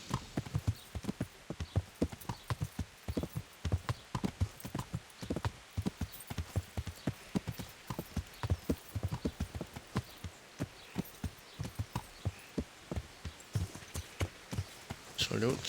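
A horse walks in Kingdom Come: Deliverance, its hooves clip-clopping in a steady, even rhythm close by, with a faint whinny and some quiet talk over the steps.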